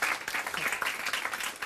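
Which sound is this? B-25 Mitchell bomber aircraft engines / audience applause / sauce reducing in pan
audience applause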